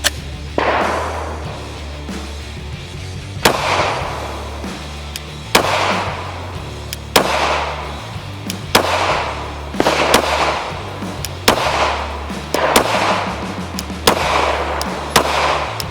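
A Gen 4 Glock 17 pistol fired with S&B 124 ammunition on a range: about ten sharp, loud shots at a steady, unhurried pace, each followed by a short echoing decay, with no talking.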